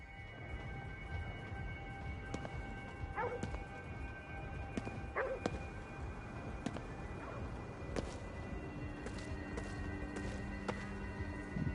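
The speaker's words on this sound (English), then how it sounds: "Dogs barking." Dogs bark in Ghostwire Tokyo, scattered short yaps at a moderate distance over a steady ambient hum, with no talking.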